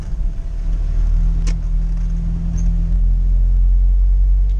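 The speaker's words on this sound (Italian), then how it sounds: "Si sente quando sono inserite le ridotte." A UAZ off-road vehicle drives in low-range gears through a small Tuscan village, giving a steady low engine drone with a whining gear hum, fairly close and continuous, with faint light clicks and no talking.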